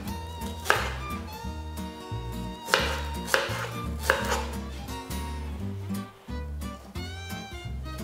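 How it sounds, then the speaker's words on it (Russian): A knife taps rapidly and repeatedly on a cutting board, finely chopping dill, with music playing steadily underneath. "Часть укропа я оставлю для украшения, а часть я мелко нашинкую."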